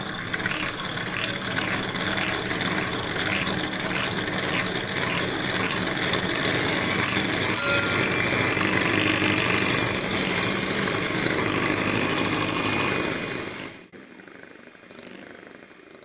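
An electric beater whips eggs for a snow pudding, a steady close whirring drone that carries on evenly, then cuts off sharply near the end, leaving a quieter background.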